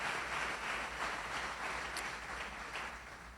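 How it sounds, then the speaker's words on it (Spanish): Applause fills a church congregation, a steady broad wash of many hands clapping at moderate distance, sustained evenly throughout with no voices standing out. "Dale un aplauso, Señor,"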